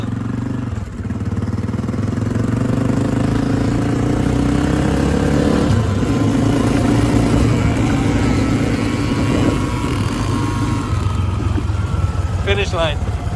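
Two small kids' dirt bikes, a Yamaha PW50 and a Honda CRF50F, race side by side in a drag race, their engines droning loud and steady throughout, with some voices in the background.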